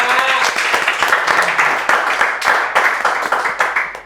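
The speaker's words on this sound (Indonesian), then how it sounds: "Kita beri tepuk tangan dulu buat mereka." Applause for three contestants on a medical anatomy quiz show, a close, crisp burst of hand clapping with sharp individual claps that carries on steadily for several seconds.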